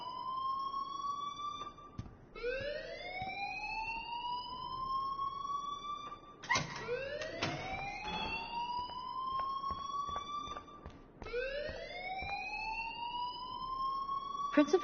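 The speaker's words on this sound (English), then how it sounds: "please turn off that alarm since that's your job" A school alarm in the game Life is Strange wails in repeated rising sweeps, three long cycles separated by brief breaks, loud and continuous with no talking over it.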